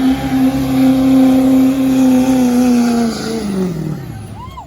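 Stock diesel truck pulling a sled at a truck pull in Galesville, Wisconsin, its engine roaring loud and steady, then the drone sagging and bogging down as the sled brakes bite near the end.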